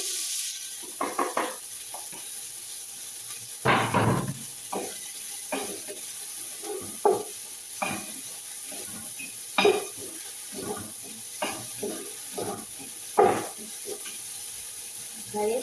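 Meat with cardamom, cinnamon, cumin, coriander and garam masala frying in a pan, a steady sizzling hiss broken by repeated close scrapes and knocks as the mixture is stirred.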